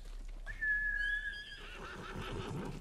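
Horse whinnying in the video game Ghost of Tsushima, a single clear neigh of about one second, followed by soft ambient game sounds and faint hoof movement.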